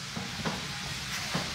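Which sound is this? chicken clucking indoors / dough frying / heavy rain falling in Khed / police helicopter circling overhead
dough frying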